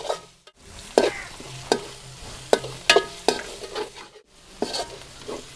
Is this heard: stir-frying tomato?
yes